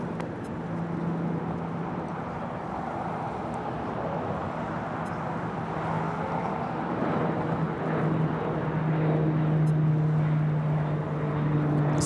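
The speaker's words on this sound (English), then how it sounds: "This Pilatus PC-12 is taking off to Santa Barbara" Pilatus PC-12 single-engine turboprop taking off at Los Angeles airport, a moderate, distant engine drone with a steady low propeller hum that swells slightly toward the end.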